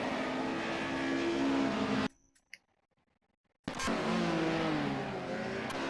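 A Mercedes 190E race car in Project CARS howls around the Zolder circuit at full throttle. The engine roar cuts to near silence for about a second and a half, then bursts back at high revs.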